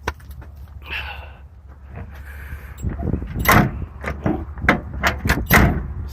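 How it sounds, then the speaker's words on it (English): The door of a 1971 Pontiac LeMans found in a junkyard is worked open and shut, giving a faint creak followed by several close, loud thuds and latch clunks in quick succession. "Solid door."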